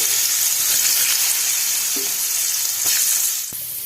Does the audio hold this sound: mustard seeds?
yes